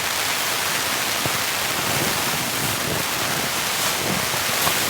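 Steady, dense hiss of heavy torrential rain pounding a tent during solo camping, a continuous wash of noise with no pauses and no voices.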